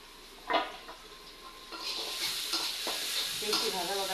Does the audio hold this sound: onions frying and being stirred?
yes